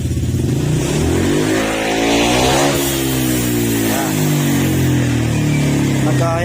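A Honda Click scooter engine with a misfiring fault is suddenly revved, climbing and sagging unevenly at close range, while someone talks over the noise.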